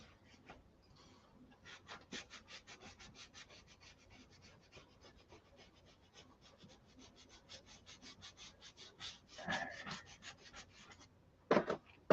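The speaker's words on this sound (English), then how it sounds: "it's just a lot of sanding." Hand sanding with sandpaper on a Viper's paintwork, a run of quick, rhythmic rasping strokes, quiet and close, with a couple of louder scrapes near the end.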